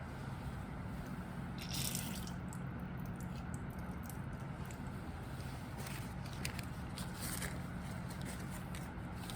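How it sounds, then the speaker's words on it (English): Distilled water running steadily over a glass rod at a lab sink during a chemistry experiment, a continuous close hiss and splatter for the whole stretch. "I'm going to rinse my glass rod with distilled water."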